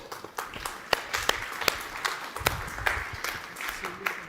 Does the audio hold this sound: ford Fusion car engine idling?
no